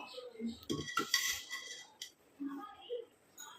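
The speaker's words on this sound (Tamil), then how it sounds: "அடுத்து நம்ம ஒரு இரும்பு கடாய் ஒன்று எடுத்துக்கலாம்." An iron kadai picked up and set down, a few sharp metallic clanks and knocks close by, with quiet gaps between them.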